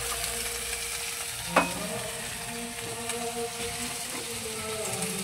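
Vegetables and peas frying in a pan give a steady, close sizzle, with a single sharp scrape of a spoon as they are stirred together.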